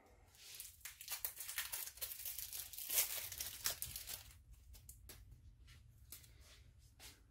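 Plastic wrapping on a pack of WWE Monopoly game cards is crinkled and torn open up close, a quiet run of dense crackling rustles that thins into sparse scattered crinkles.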